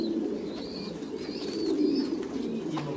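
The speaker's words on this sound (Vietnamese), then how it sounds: "Đây con chim bồ câu non," Squabs and their parent pigeons in a breeding loft give low, continuous cooing, close by and steady, with no talk.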